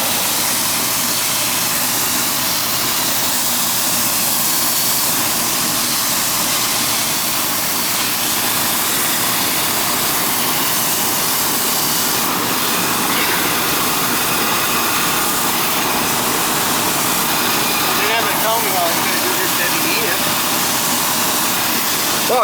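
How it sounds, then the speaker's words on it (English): A garden hose sprays water onto the condenser coil of a Ruud outdoor AC unit, a steady close broadband hiss and rush that continues without a break. "you see what I'm doing with the hose, right?"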